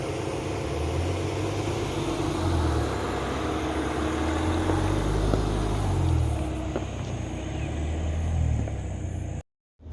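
A BAIC B40 Plus SUV rolls down a tricky mountain road, its engine and tyre rumble droning steadily from inside the cabin for nearly ten seconds before cutting off abruptly.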